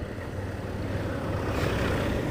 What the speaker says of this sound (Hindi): ट्रैक्टर वाला जहाज आ रहा है,